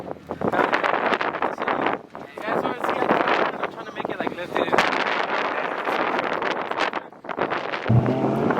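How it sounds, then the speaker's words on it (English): Strong wind buffets the open air around a stock-powered Nissan 350Z at a drift event, a loud continuous rushing roar with gusts and microphone rumble, while people talk over it. "windy out here, boys."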